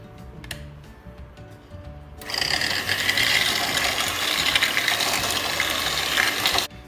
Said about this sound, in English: We've just finished to beat the egg yolks.